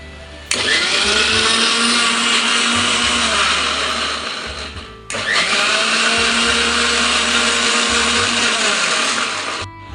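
A mixer grinder blends Oreo biscuits with milk and sugar in two loud, close bursts of whirring motor roar, each running several seconds before cutting off.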